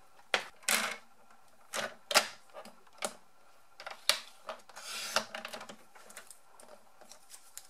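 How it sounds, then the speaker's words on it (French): A metallic paper label being cut in two for a handmade mini album, giving a series of crisp, close snips and crackles in irregular bursts with no voice. "je vais la couper en deux"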